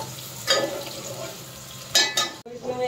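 Chopped onions, two medium small ones, tipped into a pan of golden fried garlic, giving a sudden sizzle and stir burst with a second clatter near the end, close and moderately loud.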